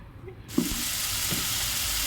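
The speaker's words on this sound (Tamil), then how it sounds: "வெங்காயம் வதங்கினதும் தக்காளியை போட்டுக்கிட்டு நல்லா ஃப்ரை பண்ணுங்கள்." Onions and tomatoes hit a hot pan and break into a loud, steady sizzle after a brief quiet start and a soft clunk, the frying hiss continuing close and unbroken.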